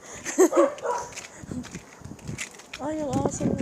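Outdoors in a neighborhood, a dog gives short whimpering yelps and barks in bursts, mixed with footsteps as people talk nearby.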